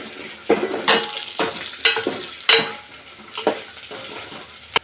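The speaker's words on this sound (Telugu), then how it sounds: "ఈసారి ఎల్లుల్లిపాయలు వేసుకుంటున్నాం ఎల్లుల్లిపాయలు కొంచెం వేగిపోయిన తర్వాత ఈ పోపులన్నీ వేసేసుకోవచ్చు" Garlic frying in oil for a gongura dried prawn curry, a close, loud crackling sizzle broken by sharp bursts each time the pieces are stirred or tossed in the pan, with no voice.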